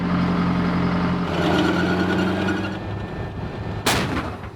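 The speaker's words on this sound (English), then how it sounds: "We're out here moving around, shooting live ammunition." Field artillery firing live rounds during National Guard training in Utah's West Desert: a loud, sharp blast near the end over steady vehicle engine rumble, with no talk.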